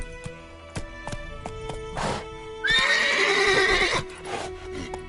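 Roach, a horse in The Witcher 3, lets out a loud whinny over rhythmic clip-clop hoofbeats, the neigh rising sharply in the middle before the hooves carry on.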